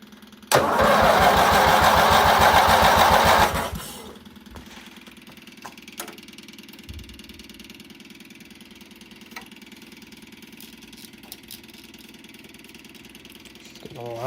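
A small engine on the Baby Doe, run with throttle and choke, bursts into a loud rapid roar for about three seconds. It then drops to a low, uneven idle with occasional knocks and clicks.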